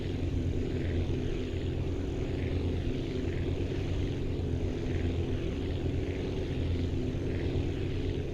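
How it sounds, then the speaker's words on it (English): A three-engine propeller plane drones steadily in the flight-building game Aviassembly, a dense, continuous engine rumble with a faint pulsing throb holding loud and even throughout, with no voices. "we're creating a 3-engine plane here"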